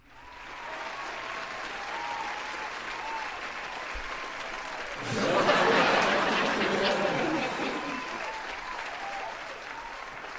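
Applause from an audience, building to a loud burst of clapping midway with some chatter and chuckles underneath, then tapering off.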